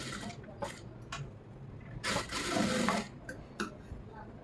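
A sewing machine stitches a quarter-inch seam on a lining blouse in short, faint, intermittent runs, with one longer burst in the middle.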